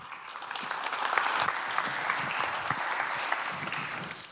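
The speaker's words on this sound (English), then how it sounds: "A very warm applause for Philip, please." A conference audience at a 2019 5G event in Luxembourg gives a speaker a warm round of applause: a full, continuous wash of many hands clapping, swelling slightly then holding steady for about four seconds, with no speech.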